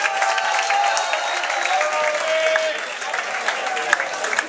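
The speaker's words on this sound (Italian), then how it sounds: "un bel applauso a entrambi." An audience applauds at a live quarterfinal event in Italy, with dense, steady clapping from a crowd that holds at an even level throughout.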